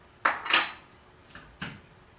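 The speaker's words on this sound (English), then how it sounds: "Stirring it around a little bit more." A metal spoon scraping and clinking against a pot while South Indian chai is stirred, two close knocks followed by two softer taps, heard alone with no talk.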